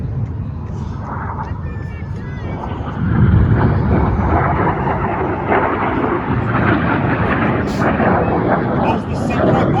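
Display team jet aircraft turn hard during an air show, a loud, rumbling engine roar that swells suddenly and then holds, with a commentator speaking over a public address system.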